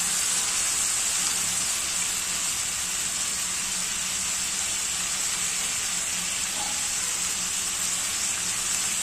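Cabbage frying in a hot pan gives a steady, even sizzle with a dense hiss that holds at the same loudness the whole way through, close up and alone with no voices.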